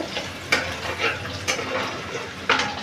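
Ginger, garlic and vegetables stir-fry on a high flame for restaurant-style veg hakka noodles, a close, lively sizzle broken by sharp spatula scrapes against the pan about every half second.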